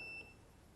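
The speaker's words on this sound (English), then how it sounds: "That alarm was when I turned off the transmitter." Hubsan X4 H123D drone transmitter gives a short, high electronic alarm beep as it is switched off, a single faint tone lasting a fraction of a second over quiet background hiss.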